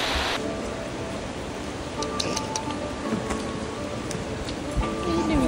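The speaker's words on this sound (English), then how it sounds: "it's starting to rain, which is not good" Rain pours steadily at an outdoor horse show, a dense, even hiss of drops hitting surfaces throughout, loud and close, with a few faint incidental knocks and no clear speech.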